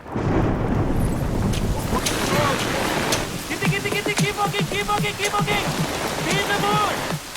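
Rain falling during an outdoor film shoot, a dense steady patter on surfaces close by, with scattered voices and bird-like chirps heard under the downpour.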